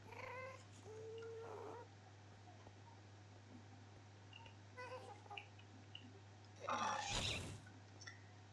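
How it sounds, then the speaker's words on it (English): Shrill, wailing ghast screeches from the Minecraft Nether in a modded 1.7.10 game: a few faint, scattered cries in steady background hum, then one louder, harsher screech near the end. "And where is that ghast noise coming from?"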